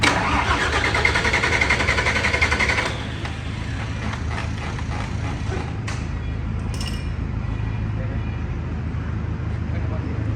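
A Toyota 6UZ engine with residual diesel smell on the pistons cranks and fires loudly, settling into a steady, rumbling idle that runs to the end, with voices talking over it.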